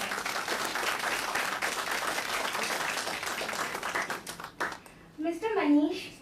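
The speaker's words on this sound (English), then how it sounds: "Please welcome him with a great round of applause." A conference audience at a national law conference gives a full round of applause for a panel member, dense clapping that fades out before a voice begins speaking at the end.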